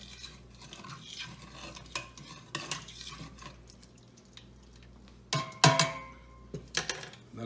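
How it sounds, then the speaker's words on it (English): A thermometer stirring hot frying oil in a pot while heating for fried chicken, faint scraping and light clinks against the metal, building to a brief cluster of louder taps near the end, quiet and close. "Give it a little stir with the thermometer."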